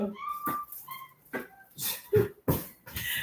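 Several newborn puppies fuss, whimper and yip near their resting mother dog indoors, in short irregular bursts of high cries and snuffles at close range, with brief breathy sounds between them.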